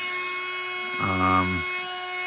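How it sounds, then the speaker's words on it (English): A Ryobi USB lithium rotary tool used for wood carving runs with a bit fitted, giving a steady, high electric motor whine throughout, with a brief louder, lower burst partway through. "This is the first time I've turned it on with a bit on."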